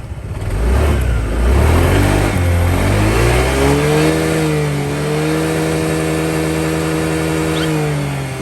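Honda PCX160 scooter engine restarting from idle stop as the throttle is twisted, then rising and settling into a steady, loud, close hum. No voices.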